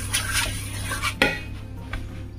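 A utensil clinks and scrapes against a bowl while scallop filling is mixed, a few close metallic knocks and one sharper tap over a low kitchen background hum, without speech.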